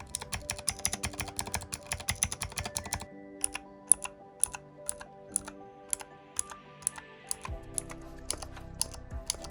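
Fast, steady typing on a Varmilo Forest Fairy mechanical keyboard with tight-fitting keycaps and stable switches, a close, crisp run of clacks that thins into separate, slower keystrokes, then a burst of quicker taps.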